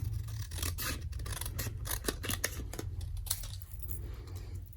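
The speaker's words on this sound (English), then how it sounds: "I'm just going to do that with my scissors this time. I'm just going to cut across." Scissors snip across paper card for a folded ladybug greeting card, giving a close, quiet series of crisp cutting and rustling strokes without talk.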